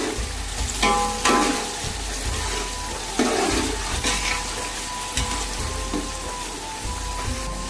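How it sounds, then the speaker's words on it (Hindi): Onions frying in oil until dark brown for beef yakhni pulao, a steady dense sizzle with recurring bursts of louder crackle and stirring, close and continuous with no talk. "प्याज को हमने डार्क ब्राउन करना है। प्याज हमारा फ्राई हो रहा है।"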